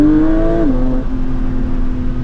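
A Porsche 992 GT3 flat-six engine hums and rises in pitch briefly, then settles to a steady drone, close by with no voices.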